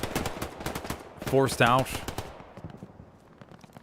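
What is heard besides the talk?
distant gunfire in video game Hell Let Loose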